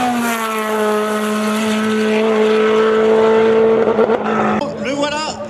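A race car at the Gavray hill climb sounds a loud, steady high engine note that falls as it brakes hard, ending in a burst of rough engine crackle.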